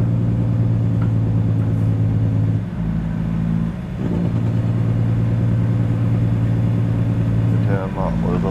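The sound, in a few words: Caterpillar 3406E engine of Peterbilt 379, video game American Truck Simulator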